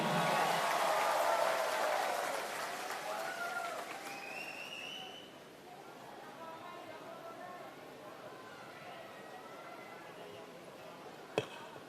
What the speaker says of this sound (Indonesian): Saya minta tepuk tangannya yang paling meriah